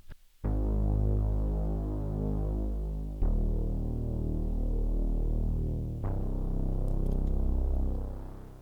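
A Prophet synthesizer bass recorded dry plays sustained, droning low notes in three long phrases, each starting with a soft attack, steady and moderately quiet with no voices.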